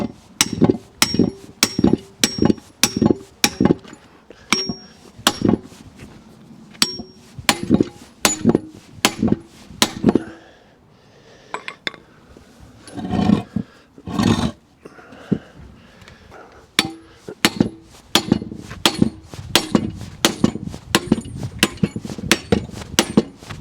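A hammer knocks a welded metal test piece held in a vise during a mechanical weld test: loud, sharp, ringing blows in fast repeated bursts, with a short break of scattered quieter knocks partway through.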